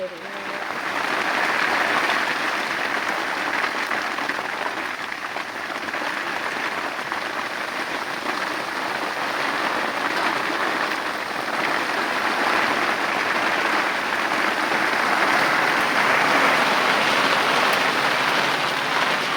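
Sudden heavy rain pours down at night, a dense, steady hiss of drops drumming on surfaces with no letup throughout.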